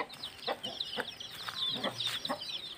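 A mother hen clucks softly beside her chicks, a series of short, repeated clucks mixed with faint peeping, moderately close, with no voices.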